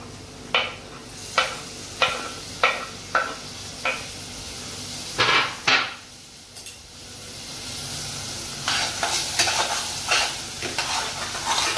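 Tomatoes going into a hot pan for Agri-style Maggi masala: a series of sharp spoon taps on the pan, then a rising, steady sizzle and stirring scrape close by.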